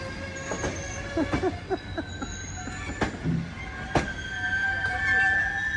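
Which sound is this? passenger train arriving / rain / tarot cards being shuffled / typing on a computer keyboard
passenger train arriving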